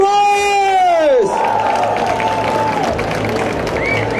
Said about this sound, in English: let's give a big round of applause for Ron Marz!